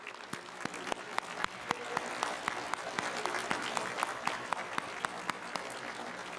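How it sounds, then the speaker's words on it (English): Steady crowd applause at a university spring convocation ceremony, with scattered sharp individual claps standing out over the continuous wash of clapping. "let's give them a big round of applause"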